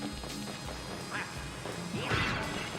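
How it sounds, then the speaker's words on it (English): A stock glass-shattering effect inside the Wario World game rings out as a bright crash near the end, over busy game music and clatter. "Nice stock glass shattering sound effect."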